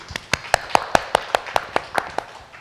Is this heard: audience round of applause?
yes